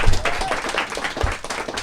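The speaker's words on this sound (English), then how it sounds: "Let's give another round of applause to Gerardo and Adam." Brief audience applause at a book event, a close, somewhat uneven patter of clapping hands lasting under two seconds, with some voices and room noise mixed in.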